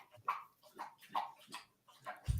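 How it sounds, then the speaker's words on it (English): Several short barks from a dog, fairly close, in an uneven series with brief gaps, alone without talk. "I hear the dogs."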